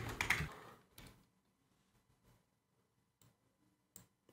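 Computer keyboard keys pressed on a Windows PC, a few scattered soft clicks and taps with pauses between them, faint and close, with no talk.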